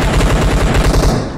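Rapid automatic gunfire from a battle game rattles in a loud, close burst of evenly spaced shots lasting just over a second before tailing off.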